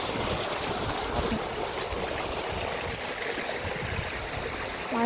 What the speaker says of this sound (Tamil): மோட்ரு எடுத்துட்டு அம்மா வந்து தண்ணி எடுக்கிறாங்க வயலுக்கு